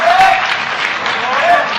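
Audience applause at a Cak Nun Sinau Bareng gathering in Indonesia: a dense, steady wash of clapping lasting the whole moment, fairly loud and close, with a brief whistle-like tone riding on top.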